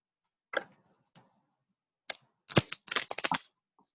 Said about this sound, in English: Then the riffle shuffle.